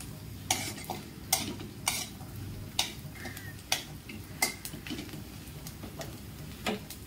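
Grated coconut being stirred and dry-roasted in a pan, with repeated sharp scraping strokes of a spatula against the metal at an uneven rhythm, each stroke clear and close over a soft, steady background rustle.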